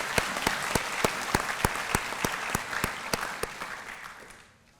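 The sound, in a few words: audience applause at police academy graduation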